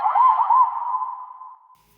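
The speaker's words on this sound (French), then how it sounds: "Maintenant, je vais lui mettre une petite reverb histoire de l'accompagner." A single vocal chop washed in added reverb in Ableton Live rings out as one sustained tone that slowly fades to silence over about two seconds.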